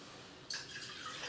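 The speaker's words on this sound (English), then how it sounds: "we'll add a little bit more water to it" Water is poured into an activated charcoal slurry drink, a soft steady trickle that starts abruptly after a moment of quiet and runs on near and fairly faint.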